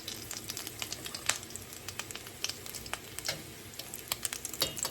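Salmon croquettes frying in a pan, a constant crackling sizzle full of small irregular pops and spits of oil, close and fairly quiet, with no talking over it.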